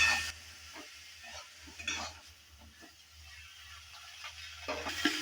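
Cauliflower frying in a pan with salt and turmeric, stirred with a utensil: soft, scattered scrapes and light clicks over a low, steady sizzle, fairly quiet and close.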